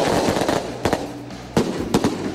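A recording of a 12x1 firecracker string plays back, giving a series of sharp, irregular bangs with a busy crackle between them, heard through a studio setting without talk.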